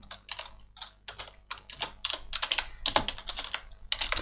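Close, quiet keystrokes clatter on a computer keyboard in irregular bursts, quickening and growing denser toward the end, with no talking.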